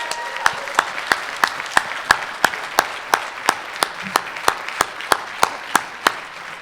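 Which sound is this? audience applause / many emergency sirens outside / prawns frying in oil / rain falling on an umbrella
audience applause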